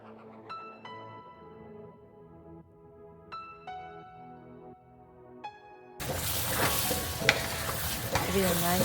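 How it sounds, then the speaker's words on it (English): Seasoned ground beef with onions is stirred in a pan, sizzling and scraping loudly for the final few seconds after a stretch of soft melodic music. "Give it a nice stir."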